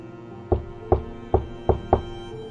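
Knocking on a bedroom window at night, five evenly spaced firm knocks, close and fairly loud, over a faint low background hum.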